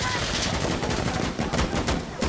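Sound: gunfire in Insurgency Sandstorm, from a video game

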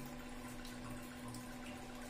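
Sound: water flowing through RO water purifier valve

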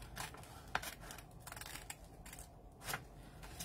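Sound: cutting a paper file folder

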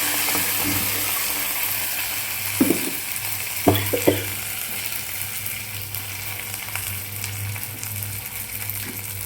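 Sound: drumstick leaf paste poured into a hot pan

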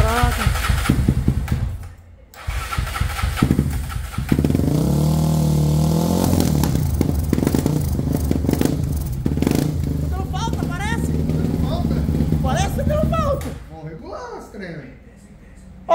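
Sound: Honda CB 300 450cc motorcycle engine starting and running

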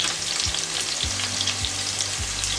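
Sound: onions frying in a pan

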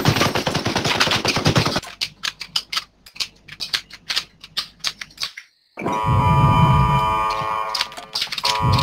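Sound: gunfire in Lost Light video game

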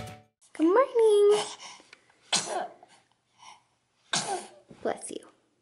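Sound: sneeze

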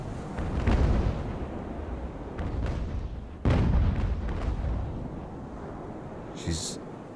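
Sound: cannon fire in Ultimate Admiral: Age of Sail video game

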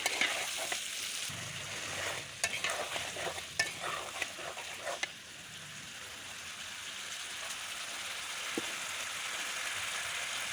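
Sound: sautéing drumstick stems with fish and prawns

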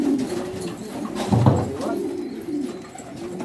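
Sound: pigeons cooing in a loft

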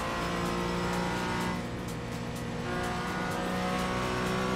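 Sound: BMW race car engine in iRacing video game

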